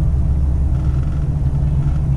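A diesel pickup truck fitted with a BD Diesel throttle sensitivity booster accelerates moderately at quarter throttle with light boost, giving a steady, loud low engine rumble heard from inside the cab with no talk.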